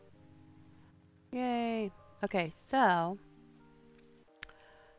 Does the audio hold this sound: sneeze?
no